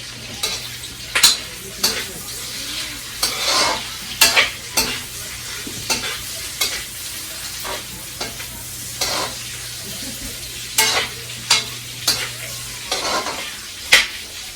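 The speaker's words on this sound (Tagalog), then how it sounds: "Medyo gisa natin ng kunti." A spatula scrapes and stirs in a sizzling pan while meat and noodles are sautéed for Ilokano-style pancit canton, with rhythmic scraping strokes over a steady low frying hiss.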